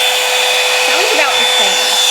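A blow dryer brush runs on high heat, a loud, steady whooshing whine held at constant pitch for a couple of seconds.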